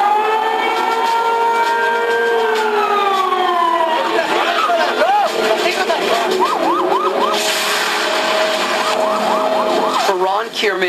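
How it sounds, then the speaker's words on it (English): An air raid siren wails in Haifa, a loud, continuous rising and falling tone that swoops up and down repeatedly in the open air, with faint voices beneath it. "air raid sirens and rocket explosions are a haunting reminder"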